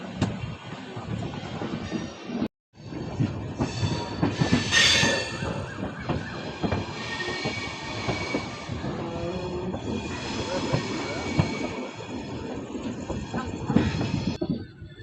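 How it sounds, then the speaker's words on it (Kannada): A Hindupur–Yeshwantpur MEMU express train approaches, its loud, broad rumble and rail clatter continuing steadily with brief squealing wheel tones and a short drop near the start. "ಆ ಕಡೆ ಒಂದು ಟ್ರೈನ್ ಬರ್ತದೆ, ನಮ್ಮ ಹಿಂದೂಪುರ ಯಶವಂತಪುರ ಮೆಮೊ ಎಕ್ಸ್ಪ್ರೆಸ್ಸು."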